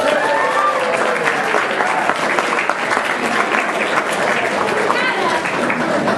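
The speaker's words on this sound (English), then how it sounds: "I want a big round of applause." A crowd applauds Representative Jim Himes at a gathering with a marching band: loud, dense, continuous clapping close by, steady throughout with a few voices mixed in.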